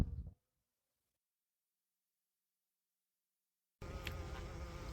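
Honeybees buzz around a hive: a short close hum at the start, a long stretch of silence, then a dense, steady swarm buzz at the end.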